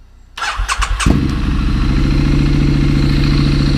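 After a brief starter whir, a Triumph Street Scrambler 900 motorcycle engine fires up and settles into a loud, steady, close idle with no talk over it.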